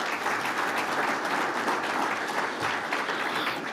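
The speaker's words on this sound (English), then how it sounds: "So a round of applause for our representatives here" Red meat industry forum audience applauding the industry representatives, loud dense clapping filling the hall at a constant level throughout.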